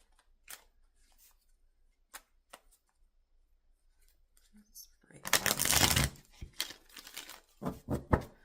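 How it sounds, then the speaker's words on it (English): A deck of tarot cards is given a brisk riffle shuffle, a dense burst of papery flutter partway through, followed by a few sharp card taps and snaps, all close and otherwise quiet. "Scorpio, let's give you a good shuffle here"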